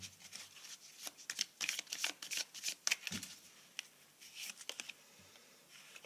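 Tarot cards shuffled up close in quick, uneven bursts of papery riffling and flicking that run steadily for several seconds, with no talking.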